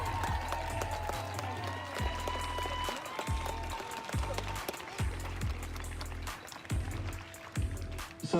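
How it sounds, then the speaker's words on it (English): Crowd at a Portland street protest against police brutality applauds and cheers continuously, a dense wash of clapping and voices over a steady pulsing low beat that thumps in regular bursts throughout. "Y'all make some more noise for Ariana, y'all."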